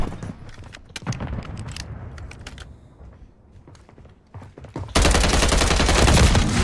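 Rapid, loud bursts of automatic gunfire from the Modern Warfare video game, dense repeated shots that build into a continuous roar near the end.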